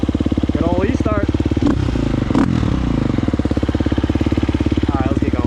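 A KTM 250SX-F four-stroke dirt bike engine on a trail ride, loud and close with a steady pulsing drone, brief rev surges and clattering knocks along the way.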